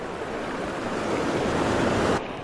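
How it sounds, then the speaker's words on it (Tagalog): Big ocean waves surge and break at a shore fishing spot, a continuous close roar of churning surf that swells slightly and then drops off abruptly near the end. "malalaki yung alon"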